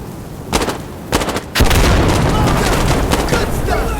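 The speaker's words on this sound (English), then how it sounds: "Watch out! Grenade!" Grenade blast in the shooter game Insurgency: Sandstorm, a loud booming burst that follows brief gunfire and then a sustained roar of battle noise, with players shouting in the background.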